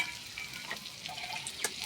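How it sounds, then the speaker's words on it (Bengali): Chilli, cardamom, chopped ginger and cumin are tempered in hot oil in a wok. A brief, steady crackling sizzle sounds close, with a sharp clink at the end and no talking. "কড়ার মধ্যে তেল দিয়ে দিয়েছি, ডালটা ভালো করে ফোড়ন দিয়ে নেব।"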